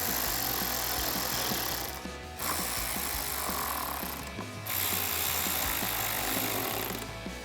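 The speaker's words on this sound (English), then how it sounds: "take a T15 torque socket to tighten those down" A ratchet with a T15 Torx socket tightens screws inside the wheel well of a 2019+ Chevrolet Silverado 1500 while a Westin HDX grille guard is fitted, giving rapid close clicking in bursts with short pauses between.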